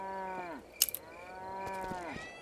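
Cows in the farming game Trader Life Simulator give several drawn-out, overlapping moos at moderate distance, with a brief clatter between calls.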